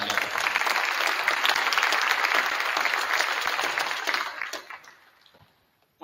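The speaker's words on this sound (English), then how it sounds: "give them a round of applause." A crowd at a state wrestling celebration claps in sustained, dense applause for several seconds before it tapers off into near silence.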